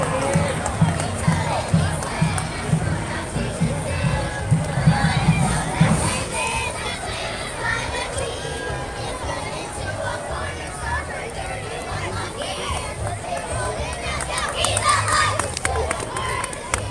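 Crowd at the Eastland Old Rip Parade cheering, clapping and shouting for middle school football players, a steady loud mass of hubbub and applause with an announcer talking over it.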